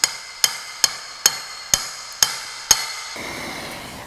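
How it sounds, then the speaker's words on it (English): Seven evenly spaced sharp metallic taps of a hammer on a socket, driving a part down onto a shaft on a 6-volt charging system, close and clear, followed by faint shuffling. "so I'll just use a socket over the top of here"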